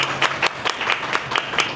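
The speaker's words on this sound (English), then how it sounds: "You may clap." Sparse, distinct hand claps from a small audience at a regional pharmacy students' assembly, coming as a handful of separate, fairly close claps with a low hum underneath.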